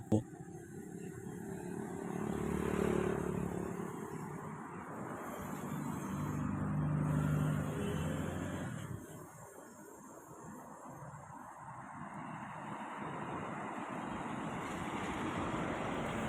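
An angkot minibus engine rumbles past on a busy street in Malang, rising and fading over several seconds amid steady traffic noise and a voice speaking.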